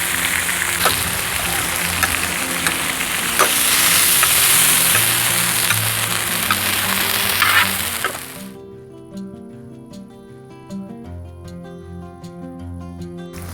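Thinly sliced beef for a cheesesteak sandwich frying in a pan crackles and sizzles steadily with a few sharp pops, then stops abruptly after about eight seconds as music takes over.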